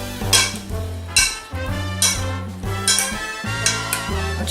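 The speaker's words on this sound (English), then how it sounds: "Don't you love that clanking?" Big spoons toss a Greek salad with dressing in a bowl, giving close, repeated clanks and scrapes of utensils in an uneven rhythm with a bright ringing tone.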